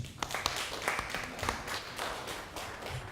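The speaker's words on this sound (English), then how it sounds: "Let's clap for them." Audience applause after student presentations, a dense patter of many hands clapping continuously at close to moderate distance, with no speech over it.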